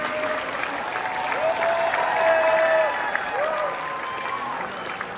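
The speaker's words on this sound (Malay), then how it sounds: "Kita berikan penghargaan dengan tepukan bergemuruh untuk beliau" A large crowd at the launch of the Johor Talent Development Council gives thunderous applause, a loud, sustained wash of clapping that runs throughout, with a voice faintly audible over it.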